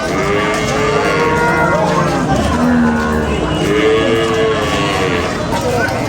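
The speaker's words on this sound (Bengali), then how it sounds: "লাল কালার একটি গরু দেখতে পাচ্ছেন" Cattle moo loudly up close at a cattle market, a few long bellowing calls one after another, with crowd chatter in the background.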